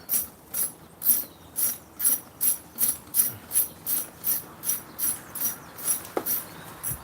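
Ratchet wrench clicking in a steady run of about fifteen quick strokes, close and crisp, while spark plugs are given their final tightening on a 1998–2011 Ford Crown Victoria engine; no talking.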